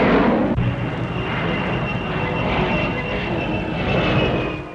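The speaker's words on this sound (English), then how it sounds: "the de Havilland 108 jet plane supplies a postscript to a story of our progress by flying" A de Havilland 108 jet plane roars past at an air display, a loud continuous engine rush with a steady high whine running throughout, swelling slightly near the end.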